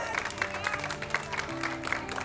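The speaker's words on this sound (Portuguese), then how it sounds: "Uma salva de palmas pro Gabriel, que ele merece mesmo, galera." Friends at a birthday tribute for Gabriel give a warm round of applause, a steady wash of clapping with music playing alongside.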